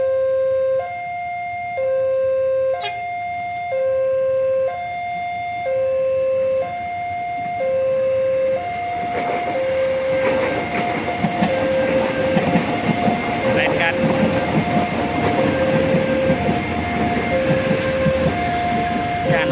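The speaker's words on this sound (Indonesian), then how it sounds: "Ini ada kereta Pramek" At the JPL 739 level crossing in Tegalrejo, Yogyakarta, an alternating two-tone crossing bell rings steadily for several seconds. Then a Pramek passenger train arriving from Kutoarjo rumbles past loud and close, wheels clattering under the continuing alarm.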